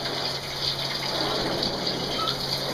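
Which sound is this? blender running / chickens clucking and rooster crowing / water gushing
water gushing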